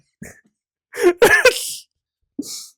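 A few short, harsh coughs with throat clearing, close and loud, separated by brief pauses.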